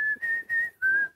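A man whistles the melody of a song, a clear, close, bright tune in three connected phrases with brief breaths between them.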